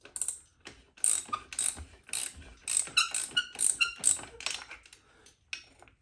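Ratchet wrench clicking rapidly in uneven bursts, loosening the rear axle nut on a Honda Monkey motorcycle, close and crisp with short metallic squeaks between strokes.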